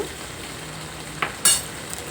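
Boiled jackfruit seeds drop into a hot pan for a seed curry, giving a brief burst of sizzle about midway before the frying settles back to a low, steady hiss.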